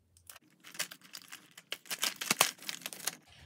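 Crinkly plastic packaging around a toy student desk set is pulled open, producing a close series of crackling, rustling bursts that rise and fall irregularly over a few seconds, with no speech.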